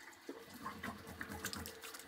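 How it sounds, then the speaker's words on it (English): A bathroom tap runs quietly while a safety razor is rinsed during a wet shave, a soft continuous trickle with small splashes, faint and close with no talking. "Just want to add a little bit more water."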